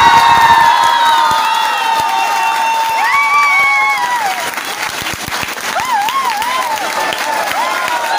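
An audience at a Jaipur physics institute event bursts into loud sustained applause with scattered cheers and whoops, dense clapping close up that eases slightly partway through, with shouted voices rising over it.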